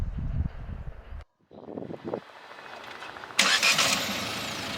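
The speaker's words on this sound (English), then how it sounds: "We have successfully sent the remote command here, and the engine will start now." A Hyundai i20 with a 1.0-litre turbo petrol engine and DCT gearbox starts on a remote command: a brief crank, a short pause, then the engine catches with a louder flare and settles into a steady close idle.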